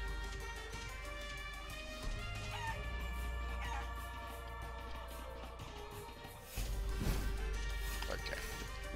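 Chickens cluck in the video game Guacamelee Gold Edition, layered with looping game music and effects at a steady moderate level.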